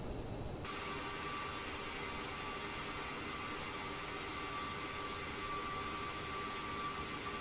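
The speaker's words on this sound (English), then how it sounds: "Let's not forget about the thrust reversers." Thrust reversers on an Aerosoft CRJ-700 jet in Microsoft Flight Simulator 2020, kicking in as a sudden loud steady roar of jet engine noise with a high whine on top, continuing unbroken without any talk.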